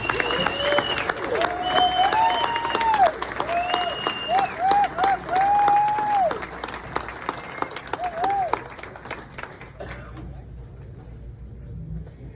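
Audience applause welcoming a Chicago Catholic League Hall of Fame inductee at an induction ceremony, sustained clapping from a crowd with voices and whistles over it, fading out near the end.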